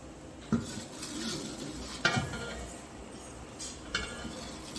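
Ground medicinal powder stirred in a metal pan, three distinct scraping clinks of the utensil against the pan at a slow, uneven pace over a faint background hiss.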